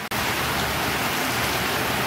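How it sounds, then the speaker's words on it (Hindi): Very heavy rain pours down in a dense, steady roar, loud and close throughout with no pauses, a continuous broadband wash of downpour. "बहुत ही तेज बरसात आ रही है भाई आज"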